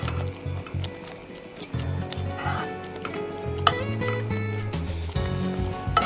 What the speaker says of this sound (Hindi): तो ये चिकन के पीसेस इसमें डाल देते हैं।